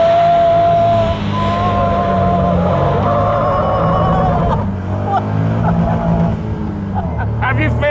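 A light Caterham 170 sports car braking hard, its engine note dropping and shifting under the deceleration, with people talking excitedly over the sound throughout.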